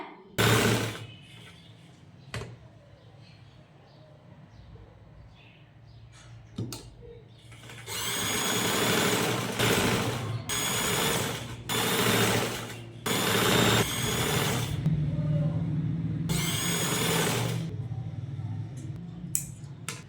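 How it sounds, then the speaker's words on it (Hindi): An electric sewing machine stitches around a kurti neckline in bursts, rapid close whirring runs of a second or two separated by short pauses and faint handling sounds. "अब हम इसकी सिलाई लगा देंगे।"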